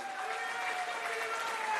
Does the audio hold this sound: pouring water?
no